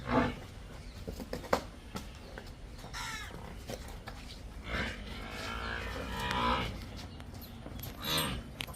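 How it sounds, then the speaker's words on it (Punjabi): A buffalo heifer lowing on a farm, a few drawn-out moos rising over outdoor ambience, with crows cawing nearby and scattered farmyard noise, moderately distant. "ਬਾਕੀ ਚੰਗੀ ਸੋਹਣੀ ਝੋਟੀ ਫੱਬਦੀ ਆ"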